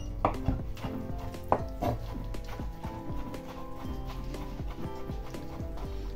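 Vegetables being chopped finely for a meat pierogi filling, a rapid steady run of knife taps on a cutting board, fairly close and continuous.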